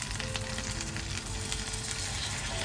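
Sauce with mirin sizzling in a frying pan as it coats the food, a steady soft hiss and crackle throughout, no voices.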